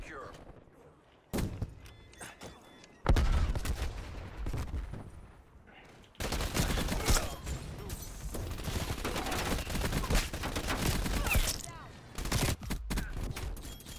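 Shotgun fire in a first-person shooter game, with heavy booming blasts and long, loud stretches of firing and game noise, with a player talking over parts of it.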